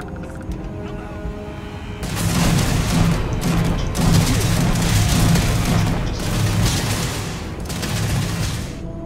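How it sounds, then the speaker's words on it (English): Sustained bursts of rapid gunfire and booming shots from combat in the game Starfield, starting abruptly after a quiet moment and continuing loud and dense with short pauses between volleys. "Are you shooting someone?"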